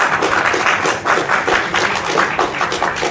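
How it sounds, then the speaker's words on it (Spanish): Audience applause for actress Felicity Jones at a Rogue One press conference in Mexico: a dense, steady patter of many clapping hands, loud and sustained throughout with slight swells. "Les pido un fuerte aplauso, por favor."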